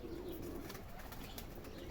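A pair of Gökdoğan pigeons, male and female, coo softly close by, with a brief flutter of wings against a quiet outdoor background.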